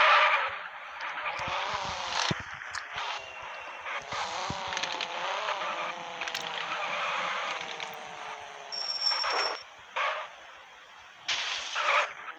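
A car in the Car Parking video game accelerating to high speed, its engine tone climbing steadily and loud throughout, with brief squeals and bursts near the end and no talking.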